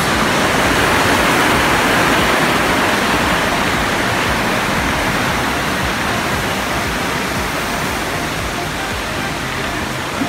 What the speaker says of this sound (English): yun yung Kawasan Falls